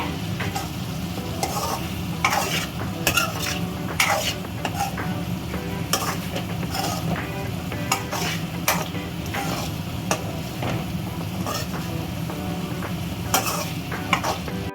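Halved boiled eggs are gently stirred into a masala gravy in a pan, with repeated spoon scrapes and taps over a constant bubbling sizzle, close and alone without speech.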